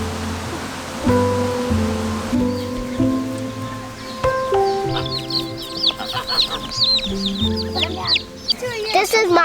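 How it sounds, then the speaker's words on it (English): Pink-headed chicks cheep in a busy cluster of high chirps and soft clucks, close by in a garden, with a steady low hum underneath and people talking intermittently. "They're the pink-headed chicks."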